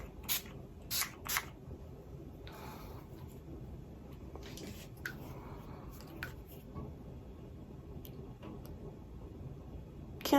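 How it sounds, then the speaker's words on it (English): Faint, soft hiss of makeup setting spray misting a few short bursts near the start, then quiet rustling and small handling clicks. "Just spray that a little."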